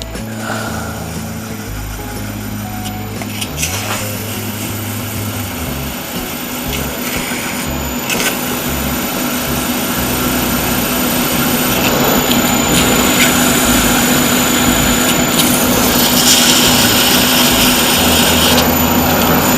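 A wooden shaving brush turns on a lathe while wet-and-dry paper sands it, giving a loud continuous motor whine and rushing abrasive hiss that builds slightly and holds steady with no talk.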